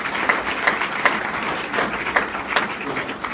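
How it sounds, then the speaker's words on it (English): An audience applauds honorees at an awards ceremony, a fairly quiet, steady patter of many hands clapping that continues throughout with slight swells. "can we give the honorees another round of applause?"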